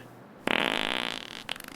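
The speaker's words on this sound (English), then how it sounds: "That's definitely a fart." A single loud, buzzy fart lasting about a second, close and clear, with a short trailing sputter at the end.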